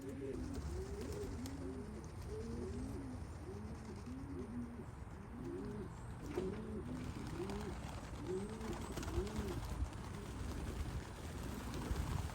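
Young pigeons coo in a backyard loft, a repeated series of soft, low rolling coos in a steady rhythm against quiet outdoor background noise.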